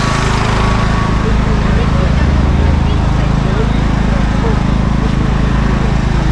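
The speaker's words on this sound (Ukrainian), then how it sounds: "Генератор." Generator droning steadily at an outdoor market during a power outage, a constant loud mechanical hum with a low rumble throughout, with indistinct voices nearby.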